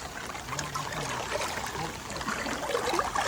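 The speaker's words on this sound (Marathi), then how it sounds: "इथून येणारं पाणी हे असं वाहत जाऊन नदीला मिळतं" Irrigation water runs off a Konkan rice field toward a river, making a continuous nearby trickle and gurgling flow, with no voices.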